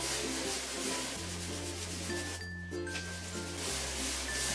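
Raw, unfinished wood is hand sanded before oiling, a steady rhythmic rubbing and scratching stroke repeating close up, soft and continuous with no talk.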